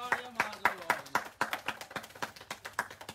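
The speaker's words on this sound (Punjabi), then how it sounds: "ਤਾੜੀਆਂ" Steady hand clapping at a live clothing sale, about a dozen sharp, evenly spaced claps in quick succession, close and fairly loud, cheering on a buyer.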